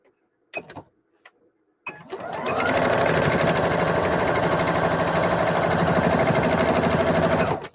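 A sewing machine stitches a repair on a ripped seam: a few short clicks, then a steady, fast, close mechanical whir that runs unbroken to the end, with no talking.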